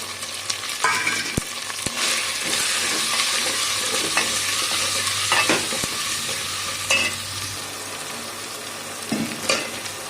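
Minced meat with ginger-garlic paste sizzles steadily in a hot pan, with repeated scraping stirs and clinks of a spatula against the pan, close and fairly loud, with no talking.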